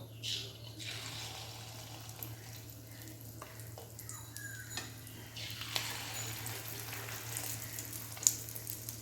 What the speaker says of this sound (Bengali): তেলটা গরম হয়ে গেছে, এবারে আমি এগুলো চামচে করে 1 চামচ করে দিয়ে ছোট ছোট করে ভেজে নেব